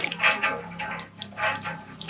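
Water splashing and gushing from a school hand pump in bursts that follow the strokes of the handle, close by and moderately loud.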